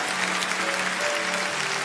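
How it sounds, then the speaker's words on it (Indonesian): A church congregation claps for God during a Sunday worship service, a dense, steady wash of many hands filling the room without a break, with faint tonal hints of music or voices underneath. "Saya undang kita semua berikan tepuk tangan bagi Tuhan kita."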